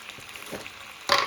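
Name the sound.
fish pieces frying in oil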